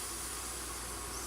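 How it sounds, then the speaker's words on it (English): Steam hisses steadily from a pressure cooker as the pressure is let out after a coconut pumpkin dish has cooked, a constant broadband rush with no break. "release the pressure"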